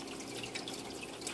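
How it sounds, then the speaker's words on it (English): Water flows steadily into a filter on a 55-gallon aquarium aquaponics setup, making a close, continuous splashing trickle with no voices. "The water's coming in through this"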